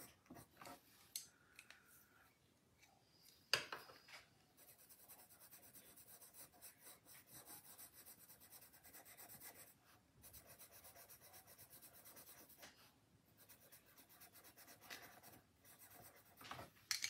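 Colored pencil strokes on paper in a coloring book, soft close scratchy rubbing in long continuous stretches broken by short pauses and a few taps, with no talk.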